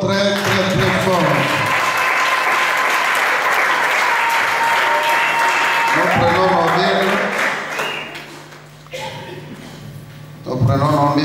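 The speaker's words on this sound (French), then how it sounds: "Acclamons très très très fort." Loud, sustained applause from a church congregation fills most of the stretch, with cheering and a voice rising over it before it fades and briefly swells again near the end.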